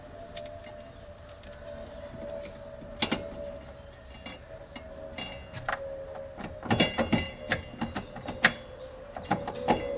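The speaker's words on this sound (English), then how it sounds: "I'm going to go back with the 1/4-inch socket to make sure these things are all tied down very well." A ratchet with a 1/4-inch socket snugs down the fuel pump screws of a Lexus ES300, giving short scattered clicks and ticks close by over a steady background hum.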